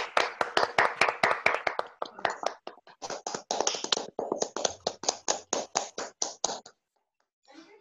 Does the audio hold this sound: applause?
yes